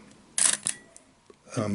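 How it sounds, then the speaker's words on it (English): A Praktica MTL film camera fires its vertical-run metal shutter: a sharp, close mechanical snap followed by a quick second clack, then a quiet pause before a voice begins at the end. "It's a vertical run shutter, as I say, metal shutter,"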